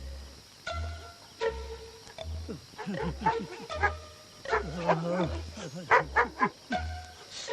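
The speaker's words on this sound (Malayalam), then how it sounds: "ഈ പട്ടി എന്തിനാ അങ്ങനെ കിടന്ന് കുറയ്ക്കുന്നത്?" A dog barking repeatedly in short, uneven bursts at moderate distance, with a steady low thumping rhythm and some voices underneath.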